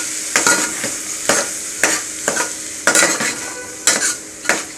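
Washed barnyard millet rice is stir-fried in a pan for a fasting meal: steady close sizzling broken by regular, loud spatula scrapes about once a second.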